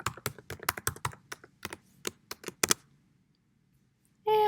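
A password is typed on a computer keyboard in a quick, uneven run of close, crisp key clicks that stops into silence, followed by a short burst of noise at the end.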